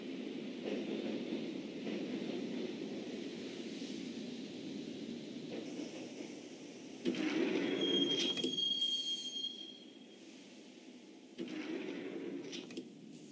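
Train ride in the Max Payne video game: a steady rumbling carriage roar with a high metallic wheel squeal rising midway, the rattle swelling and easing again toward the end, no voices.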